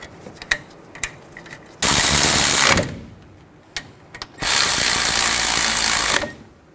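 A ratchet drives the front brake caliper bolts on a 2007 Chevy Silverado 1500 Classic in two loud, sustained whirring bursts, separated by scattered light metallic clicks and handling noises.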